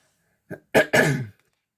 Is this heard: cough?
yes